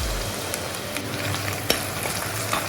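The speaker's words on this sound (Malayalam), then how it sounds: "നമുക്ക് നല്ലതുപോലെ ഒന്ന് മൂപ്പിച്ചെടുക്കാം" Ginger paste and small onions frying in a pan for a Kerala village-style fish curry, a steady close sizzle with a few soft stirring clicks, no voices.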